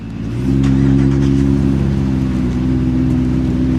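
A McLaren 675LT supercar engine in race mode roars loudly and steadily, revving with a deep, throaty growl that swells after a brief start and holds strong throughout.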